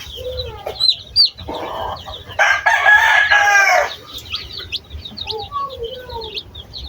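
Newly hatched chicks peep in high, rapid chirps close by, with a brief burst of louder noise in the middle and fowl clucking and crowing in the background.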